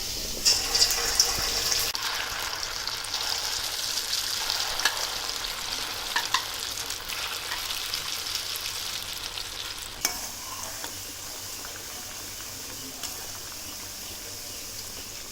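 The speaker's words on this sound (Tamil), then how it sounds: "1/2 மணி நேரம் ஊற வச்ச சிக்கனை ஒன்றா எடுத்து கடாயில் எண்ணெயில் போட்டுருவோம்" Marinated Chicken 65 pieces deep-frying in hot oil in a kadai, a steady bubbling sizzle running throughout with occasional louder crackles, close and alone without talk.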